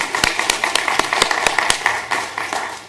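An audience at a metro council meeting claps for LSU students, a brief sparse round of distinct, fairly close hand claps that thins out over a few seconds.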